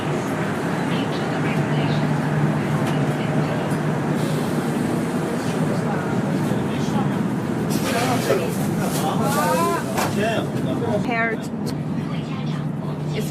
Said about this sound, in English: we are now inside a new train, the Fuxing train.